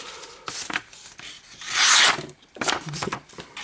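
A Victorinox Huntsman pocket knife, not freshly sharpened, cutting in a few scraping, rasping strokes, close up with short pauses between them.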